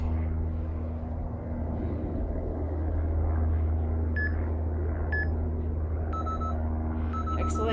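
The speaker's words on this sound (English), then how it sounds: "The double beep, everyone's favorite sound." A workout timer sounds short, high electronic beeps, including a closing double beep, over a loud steady drone of background noise with no talking.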